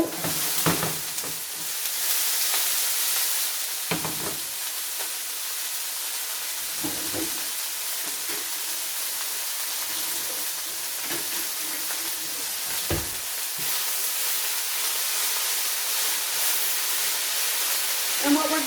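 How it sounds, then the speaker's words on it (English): Vegetables sautéing in garlic oil in a very hot, smoking pan, a loud continuous sizzle broken by several bursts of stirring and tossing, with a voice talking intermittently. "we're going to saute our vegetables. And that garlic oil is going to add a nice touch of flavor"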